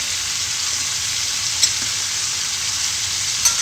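Potato added to onion and pointed gourd frying in oil in a kadai, giving a loud, even hiss of sizzling with two brief clinks of a utensil and no voices.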